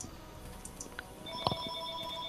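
Ringtone of a phone in the Neverwinter Nights 2 game, a steady electronic tone with short bright blips, fairly faint and heard alone.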